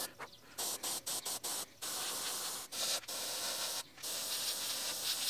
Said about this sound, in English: Now I'm just going to back my airbrush way up and kind of blend it in